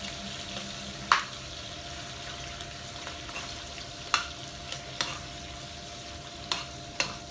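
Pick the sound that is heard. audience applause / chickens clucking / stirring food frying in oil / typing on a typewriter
stirring food frying in oil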